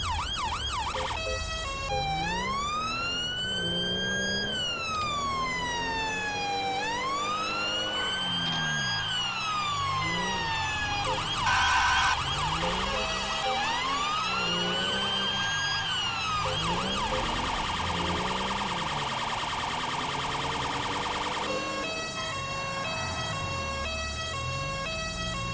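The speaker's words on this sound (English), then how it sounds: "we're going to turn the sirens off, keep the blues on" Police car sirens wail and yelp during a motorway pursuit in GTA 5, rising and falling sweeps cycling loudly and continuously, later switching to a rapid pulsing pattern over engine hum.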